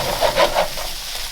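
Bacon, sausages and other breakfast fried rice ingredients frying and being tossed together in a pan, a close busy sizzle with a few scraping stirs bunched early, then easing off.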